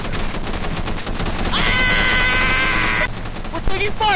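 Rapid gunfire in the video game Content Warning, a dense run of shots with a sustained tonal whine in the middle, while voices shout over it.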